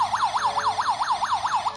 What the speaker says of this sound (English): the remote control can operate the alarm